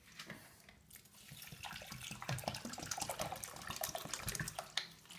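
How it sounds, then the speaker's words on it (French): Two litres of water being poured into a garlic mixture to make an organic anti-aphid preparation, a quiet, steady splashing pour with small gurgles, close by and without talk. "on met 2 litres d'eau"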